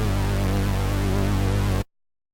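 Serum synth bass stab layering a square-wave sub oscillator dropped an octave, a thick buzzy sustained low tone held for nearly two seconds before cutting off abruptly into silence.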